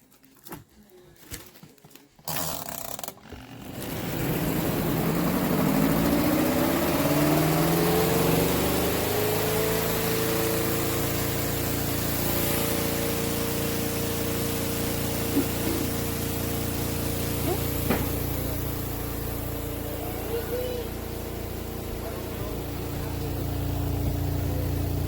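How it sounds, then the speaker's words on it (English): A COSTWAY twin tub portable washing machine with 20 lb capacity drains, giving a steady mid-range pump hum and rushing water that runs continuously after a few clunks at the start. "This is the wash machine I bought from Amazon."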